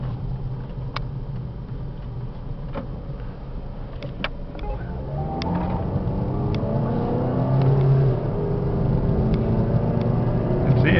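A 2004 Chevrolet Cavalier, a CNG or gasoline government car, accelerating on the road: a steady engine rumble that rises in pitch and grows louder, with some road and wind noise and no talk.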